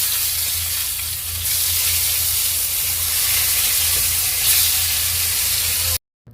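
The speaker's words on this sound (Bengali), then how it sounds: "একটা বেগুন ভালোভাবে মশলা মাখিয়ে তারপর ভেজে নিলাম" Spice-coated eggplant fries in a pan with a loud, steady hissing sizzle throughout, cutting off abruptly near the end.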